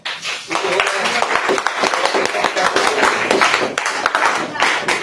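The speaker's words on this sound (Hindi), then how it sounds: "और ताली मारो।" Clapping from a group of people at a gathering, a steady dense patter of hand claps filling the clip at close range, with voices mixed in underneath.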